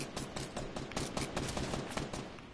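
Rapid bursts of video game gunfire crackle steadily from several directions, dense and continuous like automatic weapons firing, filling the whole stretch without any talk.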